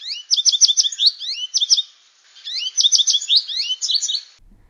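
A goldfinch sings a bright, rapid twittering song in two bursts separated by a short pause, loud and close.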